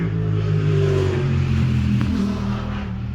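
A loud motorbike engine with a revving, rising growl that sweeps past close by, its low rumble filling the whole moment.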